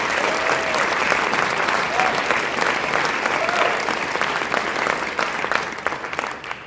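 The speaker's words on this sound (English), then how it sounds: "A round of applause for these guys." An audience claps for the Denver High School Band at its winter concert. The sustained, dense applause from a large crowd holds steady, then thins and fades toward the end.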